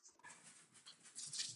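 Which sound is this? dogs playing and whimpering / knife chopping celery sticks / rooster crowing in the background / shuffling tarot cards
dogs playing and whimpering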